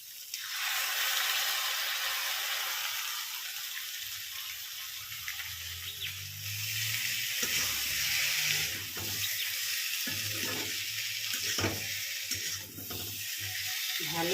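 Tomato, ginger and green chilli paste dropped into a hot kadai on the stove, a sharp sizzling burst at first that settles into a softer, steady hiss with scraping stirs and faint background sounds.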